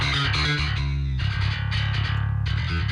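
Heavily distorted electric guitar chords in double drop C tuning through a Neural DSP Fortin Cali Suite amp plugin, with a thick, gritty midrange crunch, loud and continuous with no voices.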